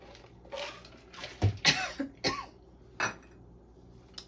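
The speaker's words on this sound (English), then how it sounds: "I'm about to cough." Several coughs and throat-clearing bursts in a home kitchen, loud and close, spaced irregularly over a few seconds with quiet gaps between them.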